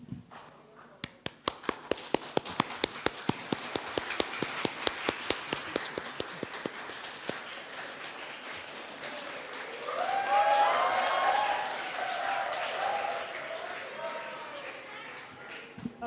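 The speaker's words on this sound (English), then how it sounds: "Can we give a standing applause for Professor Araya?" Standing applause for a visiting professor at a live general lecture, starting as a few loud, spaced claps that build into a dense crowd ovation, then tapering off under murmuring voices.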